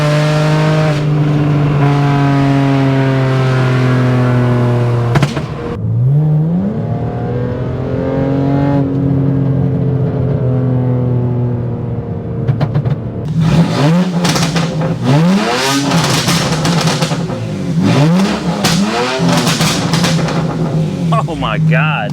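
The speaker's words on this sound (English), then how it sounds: "It broke the tires loose." A tuned 2008 BMW 335i E90 revs hard and accelerates, engine note climbing loudly before the tires break loose and squeal in repeated chirps, with excited voices shouting over the roar.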